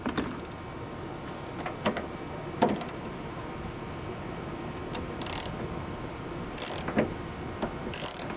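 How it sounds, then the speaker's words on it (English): Ratchet turning bolts on a Ford Ranger side mirror, short bursts of clicking pawl strokes at close range, spaced irregularly with brief pauses between turns. "You can give them a little turn with the ratchet."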